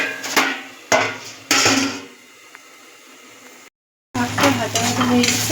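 Radish greens and stem greens fry in a pan on medium heat: three loud scraping stirs over a sizzle, a quiet stretch, a brief gap, then a fuller steady sizzle.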